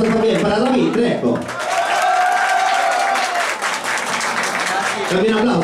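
A studio audience at a TV talent show claps for a named contestant, a sustained burst of applause over which a host keeps talking, with faint musical tones in the middle.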